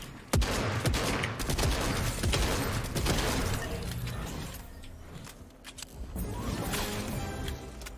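Gunfire in the video game Fortnite, a dense run of shots and mechanical clatter lasting the whole stretch, loud and close with a brief lull partway through, no talk over it.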